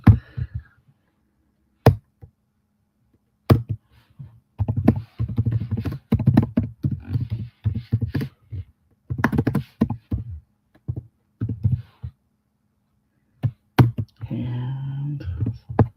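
Typing on a computer keyboard, in irregular bursts of close, crisp key taps separated by short pauses.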